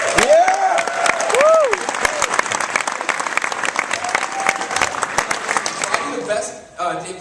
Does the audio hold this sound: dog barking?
no